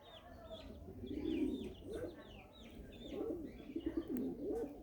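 Pigeons cooing nearby during a pigeon-flying session, repeated soft throaty coos rising and falling in low rolling phrases, with faint chirps and background ambience.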